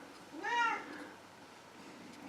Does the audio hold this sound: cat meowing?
yes